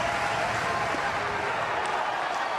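A huge crowd at an LSU baseball Super Regional game against Oklahoma fills the stadium with a dense, sustained roar of cheering and applause, loud and continuous throughout.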